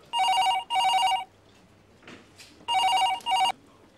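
A telephone rings in two paired bursts of bright electronic trilling, close and loud, separated by a quiet gap with faint background sounds, no talk over it.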